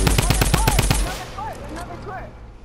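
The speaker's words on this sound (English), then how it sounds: "I'm just gonna shoot like crazy" Rapid video game gunfire in a 50v50 match, a fast burst of loud close shots for about a second, then quieter scattered game sounds with a voice talking.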